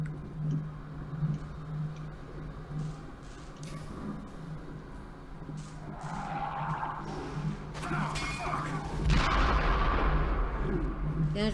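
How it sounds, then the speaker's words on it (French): Bomb blasts in a video game with booming, crashing bursts and rumble building toward the end over a steady background ticking, no talk. "faut que tu envoies une bombe, non?"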